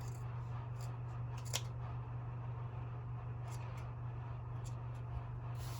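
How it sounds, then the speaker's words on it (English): Scissors trim the ends of a beaded tassel with a few quiet snips, the clearest one early and sharp and the rest faint, over a steady low hum in a quiet room. "do a trim to make it all even"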